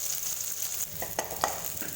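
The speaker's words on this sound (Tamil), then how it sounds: "இப்போ இதில் வந்து பூண்டு பல் சேர்த்துக்கலாம். சேர்த்துட்டு லோ ஃப்ளேம்லேயே லேசாக வதக்கிக்கலாம்." Garlic cloves sauté gently in hot oil over a low flame, a soft steady sizzle broken by a few brief stirring clinks and scrapes.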